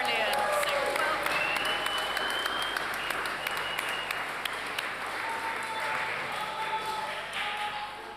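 Sustained audience applause fills an awards event hall, loud and steady clapping from a large crowd throughout, with a few sharp individual claps standing out and the ovation tapering slightly at the end.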